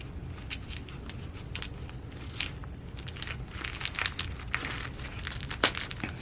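Packaging from a Lawn Fawn craft supply haul crinkles and crackles as it is unboxed, a continuous close rustle with sharper crunches, no speech.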